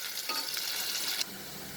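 Chopped onions fry over a low flame in a pan, a bright, close sizzle that swells as they are stirred and then eases to a steadier hiss.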